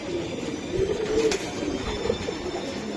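Racing pigeons of the Figo line coo in soft, low, rolling calls, a few repeated phrases close by over a murmuring background.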